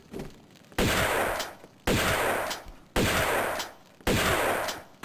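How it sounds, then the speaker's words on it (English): Four loud shotgun blasts from the video game Tomb Raider 2 Remastered, evenly spaced about a second apart, each a sharp broadband boom with a decaying tail. "Taste the shotgun fucking bullets."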